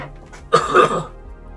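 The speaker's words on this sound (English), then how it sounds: "Oh, gonna cough." A single short, throaty cough close by, rough and clearing, fading quickly into quiet.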